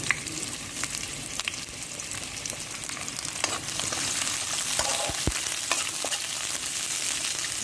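Egg sticks fry in hot oil with a steady, dense crackle that builds slightly partway through, marked by a few sharp spatters and knocks near the end.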